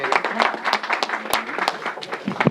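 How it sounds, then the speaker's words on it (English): Brief applause from a modest audience gathered in a church during a coronavirus briefing, scattered sharp claps under some background voices. "give a big round of applause to Mark Morial"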